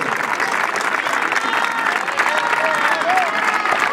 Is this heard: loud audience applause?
yes